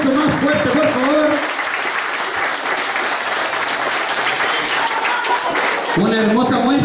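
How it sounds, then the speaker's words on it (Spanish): Loud, sustained applause and clapping from an audience for a performing group at an evening museum event, with a voice speaking over it at the start and end. "Otro aplauso más fuerte, por favor."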